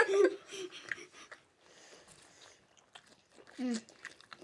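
People chew sausages up close with wet, crunchy bites and mouth sounds in uneven bursts. Brief vocal noises and murmurs mix in.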